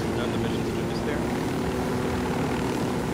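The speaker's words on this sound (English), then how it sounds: "Sunnyshine is actually in a helicopter now." A helicopter in the video game Ghost Recon Wildlands gives off a steady rotor and engine drone, even and continuous at moderate loudness, with players chatting over it.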